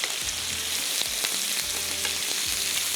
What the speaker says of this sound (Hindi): बस ये हल्का सा फ्राई हो रहा है।